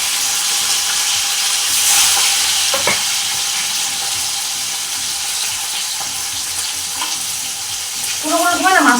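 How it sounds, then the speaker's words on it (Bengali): Fish coated in turmeric, cumin and coriander powder frying in a hot wok, giving a loud, steady hiss and crackle of oil throughout, with a few spatters and a short scrape near the end; no speech. "কড়াইটা গরম হয়ে গেছে একদম, মাছটা দিয়ে দিই।"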